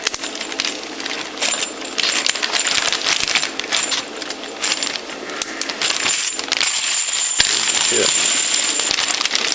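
Tumbled brass cartridge cases, about 187 pieces, pour and clatter into a bucket in a dense, continuous metallic jingling rattle, with a brief spoken word partway through.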